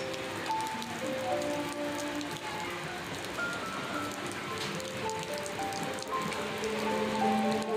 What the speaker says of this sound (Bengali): এ দেখুন যে বৃষ্টিটা পড়ছে আর এই যে ট্রেনটা যাচ্ছে